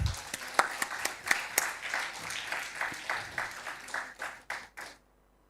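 A seminar audience applauds a keynote speaker, a moderate crowd whose claps grow, hold, then taper into a few scattered final claps before silence.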